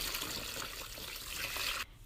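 Water pours steadily into a basin prepared for a foot soak, a continuous hissing splash that stops abruptly near the end.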